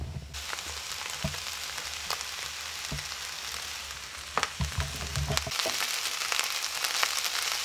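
Chicken, broccoli and rice fry in a hot pan with a steady, close sizzle, broken by a few sharp clanks and scrapes of stirring, the hiss swelling louder after about five seconds as more goes in.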